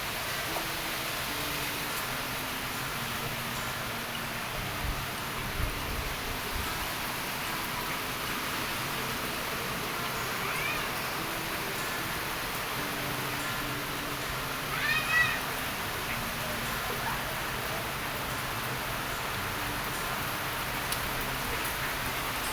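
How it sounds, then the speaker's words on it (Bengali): Steady rain falls on a stormy afternoon, an even, hissing wash throughout, with a few faint brief knocks and a possible distant cat-like call mixed in. "বৃষ্টি পড়ছে, দেখেছ বাবা?"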